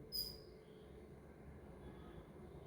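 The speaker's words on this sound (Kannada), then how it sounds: "ಎಷ್ಟು ಉದ್ದ ಉಂಟು ನೋಡಿ ಈ ರೈಲು" A long passenger train passing in Bangalore, giving a steady, low rolling rumble that stays fairly faint and distant throughout, with no one talking.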